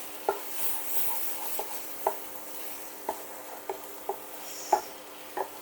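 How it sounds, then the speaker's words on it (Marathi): Ginger-garlic paste is stirred in a frying pan, with a faint sizzle under sharp, irregular taps and scrapes of a spoon against the pan, about one every half second. "नीट मिक्स करून घेऊ"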